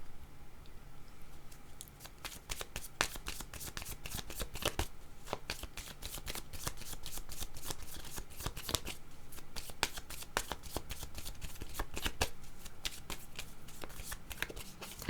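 A deck of cards shuffled repeatedly for a tarot-style reading, a rapid sequence of crisp riffling bursts and snaps close by, continuing without speech.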